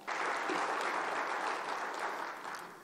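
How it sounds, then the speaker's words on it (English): A room full of people applauds at a talk, a steady dense wash of clapping that holds for nearly three seconds and tapers slightly at the end, with no voices over it. "Let's give them a round of applause."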